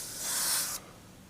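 Iwata HP-C Plus 0.3mm airbrush spraying thinned paint at low pressure gives a steady, close airy hiss lasting under a second, then cuts off abruptly, leaving quiet.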